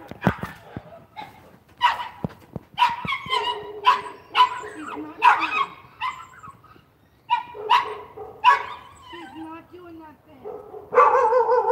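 Several dogs bark in repeated loud bursts and yips, with some whimpering, close by in a home, the barking coming in uneven clusters with short pauses between.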